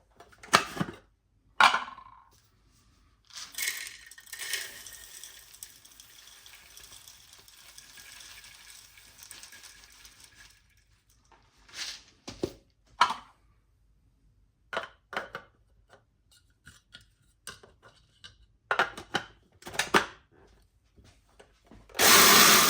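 A grinder processes ingredients for pumpkin oat pecan maple muffins in a home kitchen, with short whirring bursts and one longer sustained run separated by quiet pauses and handling clatter.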